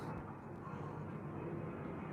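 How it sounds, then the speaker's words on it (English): An airplane passes overhead outside a podcast recording, a steady, broad rumble that holds at an even level for the whole stretch with no talking. "Oh, that's our plane."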